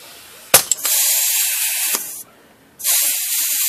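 Air hisses loudly and steadily into a tire to seat the bead, close up, with a sharp click at the start, a brief pause midway, then the hiss resumes.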